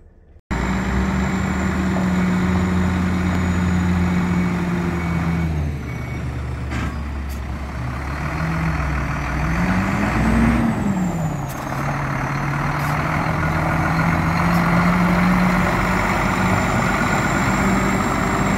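An Astra 8440 quarry truck with a Cursor engine runs steadily at close range, a loud low rumble that dips and rises as revs change, with a brief high squeal partway through.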